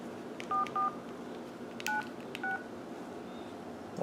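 Keypad tones from a Samsung SCH U540 cell phone as digits are entered: four short, distinct beeps in two pairs, moderately loud and close, over a quiet background with no talk.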